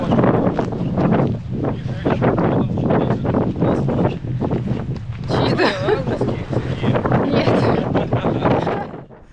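Gusty wind on a riverbank campsite during a rafting trip on the Sakmara River buffets the microphone loudly and unevenly, rumbling and whooshing in waves while people talk nearby.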